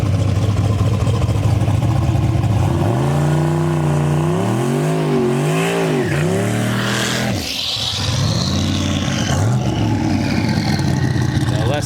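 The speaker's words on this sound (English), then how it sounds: "So less than desirable burnout." A drag-strip burnout from a turbocharged small-block Chevy Jeep or turbo LS-swapped Nissan 240SX, on a poor track in the left lane: a loud, sustained engine roar with rising and falling revs and tire noise, running continuously.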